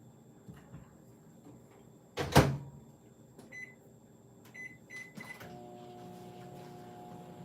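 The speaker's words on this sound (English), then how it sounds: "let me grab this out of the microwave." A microwave oven door is opened to take food out: a sharp loud clunk of the latch, then a few short beeps and soft handling clatter, with a low steady hum at the end.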